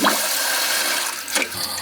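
A steady rush of water running through plumbing as a toilet fill valve refills, continuous and fairly loud with a faint tonal hum underneath from the valve humming in the water pipes.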